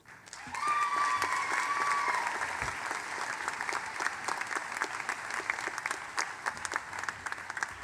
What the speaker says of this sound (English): Join me, please, in one more round of applause for all of the graduates.